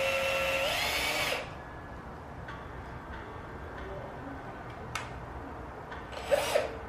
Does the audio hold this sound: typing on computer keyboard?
no